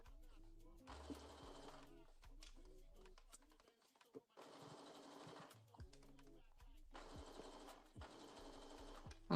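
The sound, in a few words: sewing machine straight stitch basting fabric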